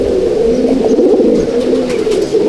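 Habluk Andhra pigeons in a loft at Halisahar make rolling coos that overlap into a continuous, close, fairly loud warble with small swells.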